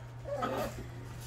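Freshly bathed dogs give a short, faint whimper or yip, heard close and alone for about a second over a low steady hum.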